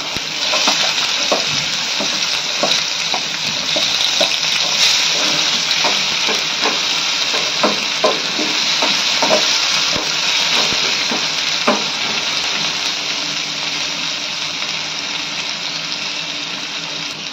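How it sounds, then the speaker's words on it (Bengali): Chopped onion frying in the oil just used to fry fish, giving a loud, continuous sizzle with steady crackling and occasional stirring clicks, and no talk. "যে তেলে আমি মাছটা ভাজলাম ওই তেলেই এবারে আমি দিয়ে দিলাম পেঁয়াজ কুচি"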